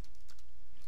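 Fingers typing on a computer keyboard: a short burst of several light, quick key clicks at close range, with no voices.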